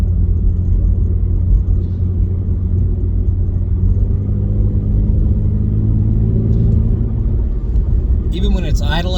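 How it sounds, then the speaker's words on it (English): A 2016 Ford Mustang V6 with a Beluga axle-back exhaust idles with a deep, steady exhaust rumble, close and loud, its low throb holding evenly throughout. "Even when it's idling, it just has a really nice rumble to it."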